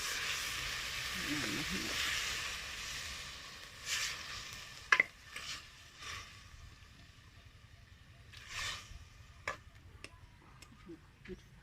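Rat meat frying in a pan after water goes in, a faint steady sizzle with scattered ticks, stirring clatter and a few sharp taps, quiet and close without speech.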